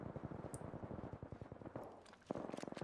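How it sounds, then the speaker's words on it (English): Sniper rifle shots in the video game Apex Legends come as a rapid run of sharp, closely spaced cracks and thuds, moderately loud, with a brief lull before another quick burst near the end. "Oh, we're getting sniped."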